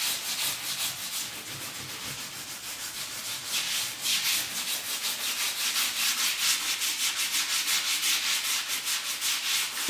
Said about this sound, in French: la mousse se ponce et après, ça fait tout lisse